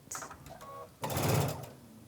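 Sewing machine stitching a seam on a Fourth of July checkerboard pillow, a short burst of near mechanical whirring that slows briefly at the seam before stopping.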